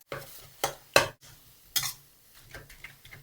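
Minced pork stir-fried with a little water in a pan for a glass noodle salad, several distinct scraping strokes of a spatula over a soft sizzle, close and fairly quiet.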